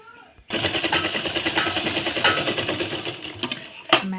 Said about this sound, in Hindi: सो गाइस इस तरीके से आप एक सिलाई मार लीजिए।